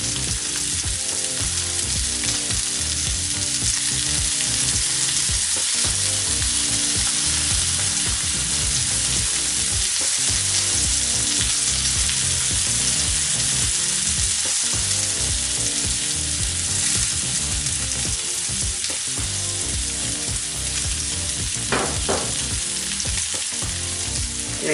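Striploin steaks fry in a pan with butter, a loud, constant hiss and crackle of sizzling fat that holds steady throughout, with faint scraping of stirring in the pan and no talk.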